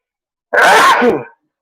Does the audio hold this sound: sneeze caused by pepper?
yes